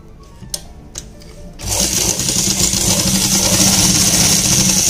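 Sewing machine stitching fabric for palazzo pleats: a few faint clicks, then the motor starts at about 1.6 seconds and runs in a loud, steady, high whirring buzz to the end.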